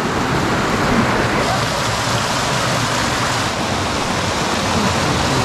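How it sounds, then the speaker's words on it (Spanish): A small waterfall in a forest valley pours with a steady, loud rushing hiss that holds unchanged throughout and is heard alone. "Ahí está, otra cascadita más."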